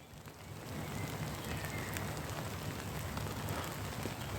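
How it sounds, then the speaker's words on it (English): Rain falls on a tent pitched in the woods during a camping trip, a continuous close patter and hiss that swells slightly after the first half-second and stays steady. "It's raining, pal."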